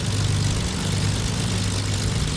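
The turboprop engines of a CASA CN-235 aircraft in Flight Simulator X produce a steady, loud, even drone with a low humming tone and a broad hiss that holds without change, and no voices.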